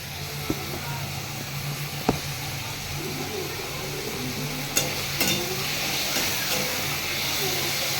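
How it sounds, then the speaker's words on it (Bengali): Potatoes frying in a pan in a home kitchen give a soft continuous sizzle and hiss, broken by a few sharp utensil clicks and scrapes, with a faint low hum underneath. "তো আলুটা ভাজা হোক।"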